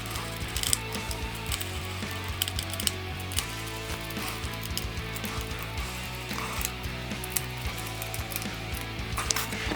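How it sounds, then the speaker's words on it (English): A 10 mm socket wrench ratchets while tightening guitar tuners during a Stratocaster build, giving soft repeated mechanical clicks in quick irregular bursts at close range, fairly faint against a busy background. "then just a 10 mil socket"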